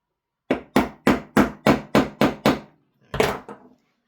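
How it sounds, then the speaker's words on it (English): Tool tapping on an airsoft hop-up chamber for a gas blowback rifle: eight quick, evenly spaced sharp knocks, then a short pause and one final tap, close and crisp. "I'm just going to give it a tap."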